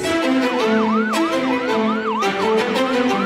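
A wailing ambulance siren sweeps up and down in a steady repeating pattern, loud and continuous, with no talk over it.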